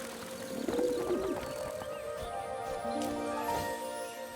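Cartoon doves cooing, a few soft rolling coos close by over a quiet background, with a faint clip-clop of hooves, no talk.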